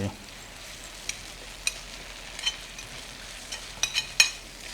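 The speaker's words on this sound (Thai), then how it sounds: "หลังจากที่เราผัดเนื้อปลากับเครื่องเทศจนหอมเรียบร้อยแล้ว" Pounded fish meat stir-fried with dried red chilli and turmeric, giving a soft steady sizzle with occasional faint spatula scrapes and clinks against the pan, fairly quiet and close.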